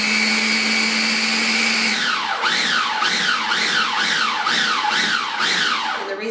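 A food processor whirs loudly in short repeated pulses, chopping shrimp and artichoke dip ingredients; after a steady hum, about seven rising-and-falling bursts follow in quick rhythm before stopping.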